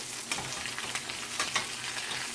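Salmon fillets flipped in an oiled pan give a steady, close sizzle with a few sharper crackling bursts, and no voices over it.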